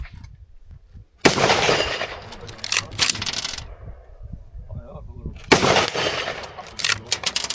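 A rifle fires repeated gunshots until its magazine runs dry, sharp loud cracks in two bursts separated by a brief pause, each shot ringing out in an open outdoor setting.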